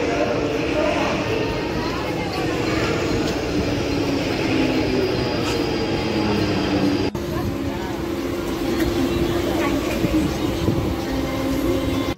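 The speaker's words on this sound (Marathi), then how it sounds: "आता मी CST ट्रेनची वाट बघतो आहे." A Mumbai local train running toward CST, a continuous loud rumble of wheels and carriages that holds steady throughout, with a brief jolt partway through.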